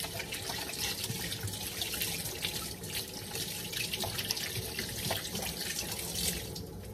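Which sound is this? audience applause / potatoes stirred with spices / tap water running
tap water running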